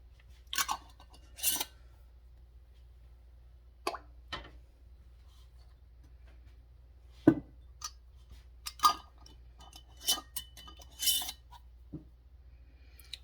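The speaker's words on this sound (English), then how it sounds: "I'm going to put the pint or the quart into my canner" Glass canning jars of vegetable broth are set into a pressure canner, producing scattered clinks and soft thuds in a quiet kitchen, a few sharp taps spaced irregularly at close range.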